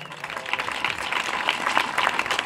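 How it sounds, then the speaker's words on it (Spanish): Audience at a researchers' night event applauding the biobank team, a steady dense burst of clapping throughout, with crowd murmur mixed in. "Un aplauso para las chicas del biobanco"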